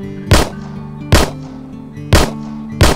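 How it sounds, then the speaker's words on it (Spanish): Four sharp gunshots ring out in the open-world zombie VR game Survival Nation, widely and unevenly spaced, each a loud crack with a short decay over a low steady background hum. "El disparo se siente súper guapo, la verdad, está súper bien."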